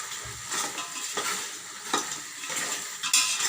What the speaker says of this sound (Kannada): ಈಗ ಇದಕ್ಕೆ ಈರುಳ್ಳಿ ರುಬ್ಕೊಂಡಿದ್ವಲ್ಲ ಅದನ್ನು ಹಾಕ್ಕೊತಿದ್ದೀನಿ.